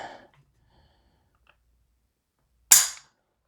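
A single sharp metallic snap of an EPT trigger breaking on a PSA AR pistol during a trigger-pull test, loud and close, standing alone after a brief faint sound and near silence.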